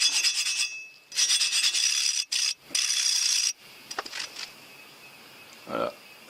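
A dry metal piece, derusted by electrolysis, is rubbed in several loud rasping bursts that stop and start, followed by quieter scattered scrapes and a brief soft knock near the end.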